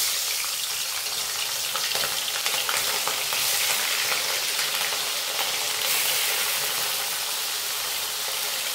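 Salted rui and katla fish pieces fry in hot oil in a kadai, a dense, steady sizzle and crackle that stays loud and close throughout with no voices.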